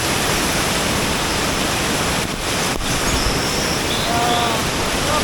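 Palasanon waterfall roars as a loud, constant broadband rush of falling water, close and steady, with faint birdsong or chirps above it.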